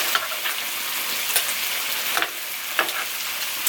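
Beef sizzling on a Samoan-style grill, a steady bright crackling hiss with scattered pops and spits throughout, close and continuous with no voices.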